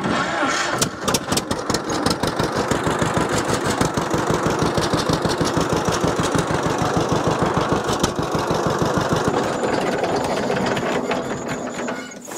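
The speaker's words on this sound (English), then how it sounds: "So right now, I'm just going to engage my starter." Vintage John Deere A tractor engine cranking over and catching, then chugging at idle with a loud, rapid, steady two-cylinder pulse that continues for several seconds up close.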